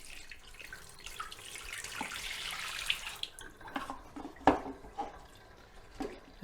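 Tap water running into a sink while rinsing film during development of Fomapan 100 in Kodak XTol, a steady splashing hiss with sloshing pours and a few clunks of the tank.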